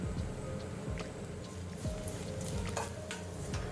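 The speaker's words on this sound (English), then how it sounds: "After 5 minutes of continuous stirring, oil will start to ooze out like this" Coconut masala frying in a pan under constant stirring: a close crackling sizzle punctuated by rhythmic scrapes and taps of the spoon.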